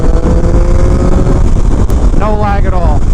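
2019 Triumph Speed Triple RS motorcycle pulling hard in fourth gear at higher revs, a loud, close engine roar with rising tone under heavy wind buffeting.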